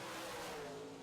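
Modified race cars roar through a turn three abreast, a loud dense wash of revving engines heard from trackside with no voices over it.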